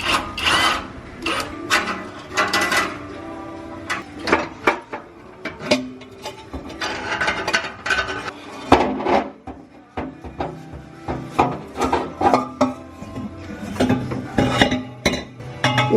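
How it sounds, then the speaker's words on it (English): Handsaw cutting through the exhaust pipe under a jacked-up Corvette, producing loud, close, rhythmic rasping strokes in uneven bursts with brief pauses, metallic scraping throughout and no talking. "Let's get to sawing."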